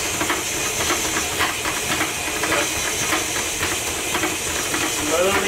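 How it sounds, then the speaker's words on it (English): An electric mixer beating cake batter for a Christmas rum cake as rum is slowly poured in, a loud steady hissing whir that holds constant throughout with faint rhythmic pulsing and no talking. "Cut the speed back a little bit here so we're not kind of flinging all the rum out"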